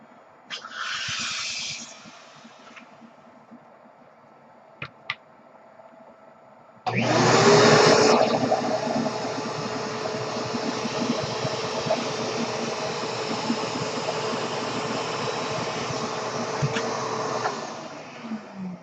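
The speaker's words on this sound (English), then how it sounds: "what happens when we introduce our vacuum to the back of it?" A vacuum cleaner switches on behind a balloon and runs loudly at close range with a steady whine and roar for about ten seconds, then winds down. Quieter rustling and handling noises come before it.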